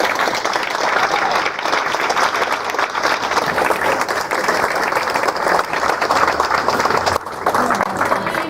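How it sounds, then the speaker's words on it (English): An audience at a Vietnam-era veterans recognition ceremony in Northampton applauds the veterans, producing loud, sustained clapping from a large crowd that carries on without a break for several seconds. "Can I have a round of applause for the veterans"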